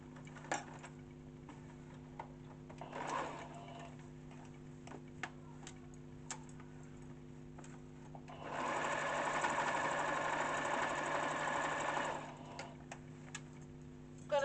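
A sewing machine runs a top stitch along African print fabric for a kaftan, with quiet ticking and clicks, then a steady whirring run of about four seconds, close and alone.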